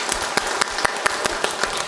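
Steady, fairly close congregation applause at a church Sunday service for newly graduating students, a dense wash of many hands with a few distinct sharp claps standing out rhythmically.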